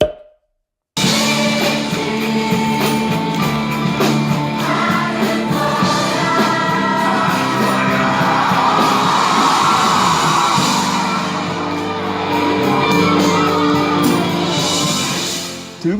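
A church congregation shouts and cheers through a loud worship song performance, with sustained music and crowd noise filling the whole stretch at steady intensity after a brief silent opening.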